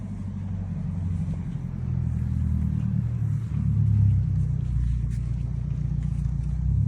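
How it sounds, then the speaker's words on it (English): A car drives up nearby, its engine rumbling low and steady, growing slightly louder partway through as it approaches. "you got a fucking car coming over here, too"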